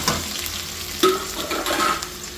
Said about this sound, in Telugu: ఉల్లిపాయ లైట్గా ఫ్రై అవ్వాలి.